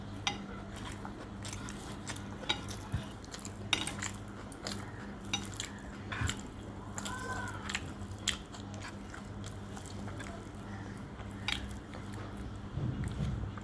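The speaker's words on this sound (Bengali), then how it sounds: "তো এখন যেটা খাচ্ছি সেটা হলো ডিম আর আলু শুকনা মরিচ দিয়ে, কাঁচা পেঁয়াজ দিয়ে সুন্দর করে ভর্তা করে নিয়েছি" Someone eats a mashed egg and potato bhorta made with dried chili and raw onion, with soft, irregular chewing and biting sounds, occasional light clinks, and a faint steady hum behind, close and quiet without talk.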